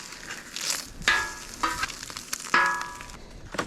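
Fish fillets frying in a pan sizzle nearby, with crackling pops and a few sharp spatter bursts over a soft background hiss, no talk.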